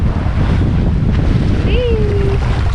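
A small boat runs across open sea in strong wind, its hull slapping into a wave amid steady wind rush and surf noise, with a brief whistling tone partway through.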